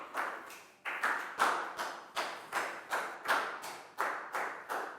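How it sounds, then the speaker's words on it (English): Short bursts of clapping after a pupil's answer in a Year 4 science lesson, with about a dozen separate rounds of a few hands each, each flaring up and quickly fading, close and fairly quiet. "a big round of applause for Pak Bung"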